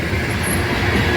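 A BNSF freight train of ethanol tank cars rolls past close by, a loud steady rumble of wheels and rail noise with a faint high squeal over it.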